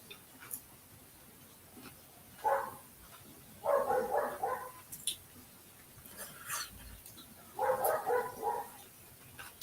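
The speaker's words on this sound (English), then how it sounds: "That fucking dog does my fucking head in, man." A dog barks in short bursts at a distance, with several separated clusters of barks over faint background noise and no talking.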